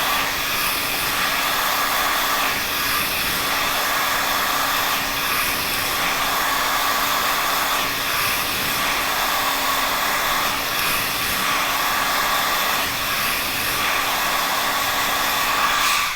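A hair dryer blows steadily while hair is being blow-dried, a continuous close whooshing whine with slight fluctuations as it moves, and no voices.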